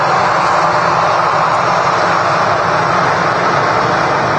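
A jet airliner at Manchester Airport, an EasyJet or Ryanair aircraft, produces a loud, steady engine roar that fills the scene without pause and without voices.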